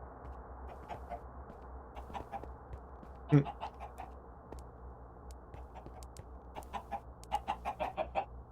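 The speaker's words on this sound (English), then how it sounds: "A lot of chickens down there." Chickens clucking in the video game Minecraft, soft scattered clucks with one sharper squawk, then a quick burst of clucking near the end, over a low steady background hum.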